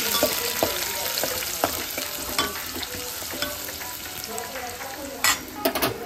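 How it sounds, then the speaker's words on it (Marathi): Chopped onion fries in hot oil for Malvani seafish mutton, a steady close sizzle with repeated sharp scrapes and clicks of a spoon stirring in the pan, plus a few louder clatters near the end. "कांदो फोडणीला टाकलेला आहे मंडळी."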